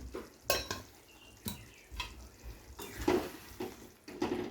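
A spoon stirs dahi bhindi, okra in yogurt, with garam masala in a pan: soft, faint scraping strokes repeat at an uneven rhythm, with no voices.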